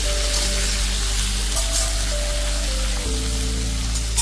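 Okra with a spoonful of asafoetida hitting hot oil sets off a loud, dense, continuous sizzle and crackle. A low hum sits underneath it, and no one speaks.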